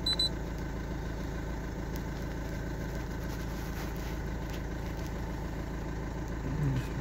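A Citroën car engine idles steadily with a constant low hum and a faint high whine, running with a fuel pressure regulation fault, no voices over it.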